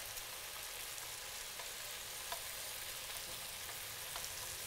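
Chopped onion sautéing with bacon in a hot pan gives a steady, soft sizzle and crackle, faint and even throughout, with no voices over it.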